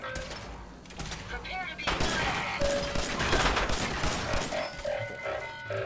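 Gunfire in Fallout 4 with a robot foe and a companion robot drawing its fire: bursts of shots and thuds run through the whole stretch, mixed with game effects, while someone talks over the fighting.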